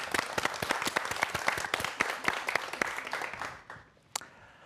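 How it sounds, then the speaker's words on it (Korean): A studio audience at a science lecture claps in a brisk, fairly close round of applause that thins out and fades near the end, with one last stray clap. "김은빈 교수님의 강연 박수로 청해 듣겠습니다"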